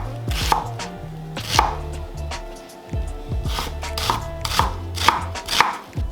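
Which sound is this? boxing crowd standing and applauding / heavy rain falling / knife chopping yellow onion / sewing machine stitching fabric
knife chopping yellow onion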